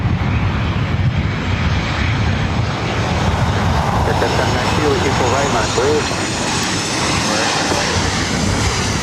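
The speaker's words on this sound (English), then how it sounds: "This is Southwest Airlines 2979 coming in from Oakland on 737-700." A Southwest Airlines Boeing 737-700 jet arriving at LAX from Oakland produces a loud, steady jet engine roar, broad and rumbling, sustained throughout at close range.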